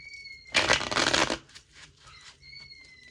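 A deck of tarot cards riffled in one quick shuffle, a close, crisp papery burst lasting under a second, followed by a few softer slides and flicks as cards are pulled, with a faint tonal hum in the background.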